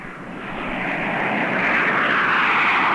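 USAF jet aircraft on its takeoff run, a loud broadband engine roar that swells steadily and holds strong and close throughout.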